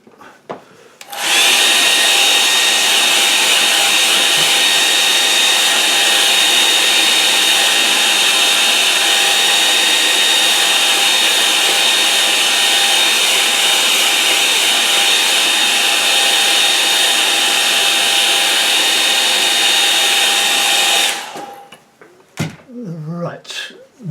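A hair dryer blasts steadily at close range for about twenty seconds, drying fresh paint, with a constant broadband whoosh and motor whine that then cuts off abruptly, followed by some brief handling sounds.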